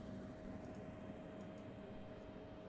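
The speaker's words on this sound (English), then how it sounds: "that's a loud helicopter noise" A low, steady engine drone with a faint steady whine, most likely a helicopter, hums in the background, quiet and unbroken for under three seconds, with no voices.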